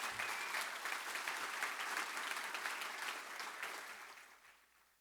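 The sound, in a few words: audience applause at a summit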